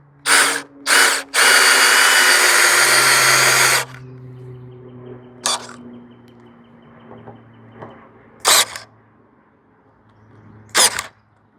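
A power drill drives screws into a wooden beam of a firewood shed: three short bursts, then a sustained two-second whir, followed by quiet gaps and a few brief later zips, close and loud.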